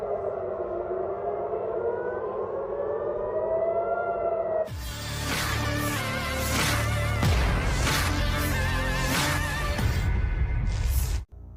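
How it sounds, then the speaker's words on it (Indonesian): An air raid warning siren in Tel Aviv, Israel, during an Iranian missile attack, wails loudly as it rises and falls, then a second siren joins with a harsher, busier tone before cutting off abruptly. "Sirine peringatan di Israel berbunyi usai rudal Iran menghujani wilayah Tel Aviv, Israel."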